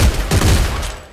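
A powerful single-shot gun fires in the sci-fi shooter Dead Space 3, giving a few quick heavy blasts in close succession, loud and near, that tail off within about a second.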